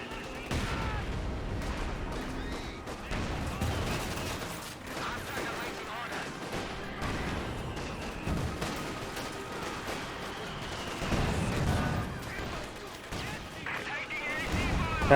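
Anti-tank guns blast repeatedly in a Company of Heroes battle against a short-barreled Panzer IV, heavy booms landing amid dense, continuous gunfire and clatter, with someone talking over the fighting.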